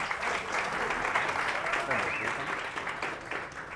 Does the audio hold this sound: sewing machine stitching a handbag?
no